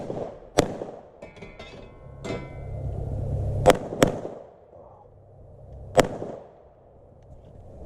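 PSA Dagger handgun fired at shooting practice, several sharp, loud pistol shots spaced a few seconds apart, with quieter rumbling ambient noise between them.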